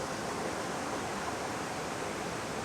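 A waterfall pours into a river in a rocky gorge, heard as a steady, even roar of rushing water with no breaks, fairly soft and slightly distant, with no voices.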